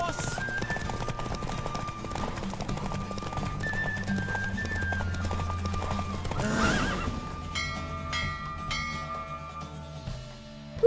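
Hooves gallop in a steady clip-clop rhythm while a horse neighs and whinnies in The Witcher video game, set against a constant game music bed, with a louder rush of air and movement near the middle.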